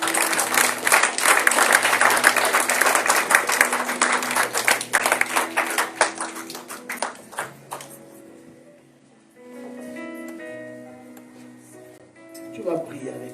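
A church congregation at a Sunday service claps and cheers loudly and continuously for several seconds, the applause thinning out as music with sustained tones and voices carries on underneath.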